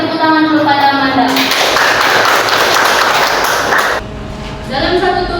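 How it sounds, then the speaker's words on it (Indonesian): A school mathematics class applauds a student named Amanda, a short burst of clapping in a classroom lasting a few seconds, with a voice talking over it before and after. "Beri tepuk tangan dulu pada Amanda."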